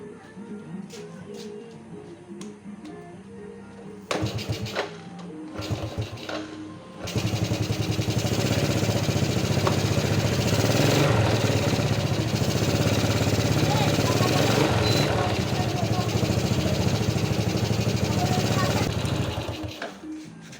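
A Yamaha Vega ZR motorcycle engine is kicked over with a few short sputters and knocks, then catches and runs in a loud, steady close-up buzz for about twelve seconds before easing off.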